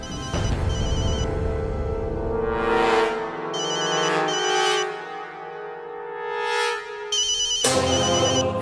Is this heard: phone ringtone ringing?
yes